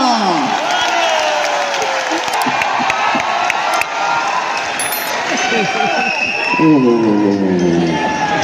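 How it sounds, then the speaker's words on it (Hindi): A large audience applauds and cheers loudly and continuously at an RCM Rupantaran Yatra gathering where someone is speaking, with whoops and shouting voices mixed into the sustained roar. "तालियां।"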